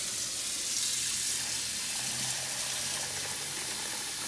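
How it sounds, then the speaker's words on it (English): Tap water running steadily from a faucet into a Staub round teapot, a continuous hissing splash at even volume with no talking. "I'm gonna go ahead and put some water in it for you."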